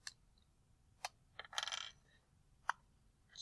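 Whiteout correction tape handled at a desk: a few sharp plastic clicks, then a short scratchy rasp as the tape is pulled, then another click, all faint and with no speech.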